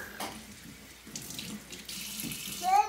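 Tap water runs steadily into a sink to wet a facecloth, a continuous close splashing that swells slightly toward the end.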